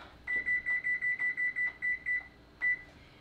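Oven timer buttons beep as the timer is set for baking bread at 400 degrees: a quick run of about ten short, even electronic beeps, then a pause and one final beep, close and clear with no talking.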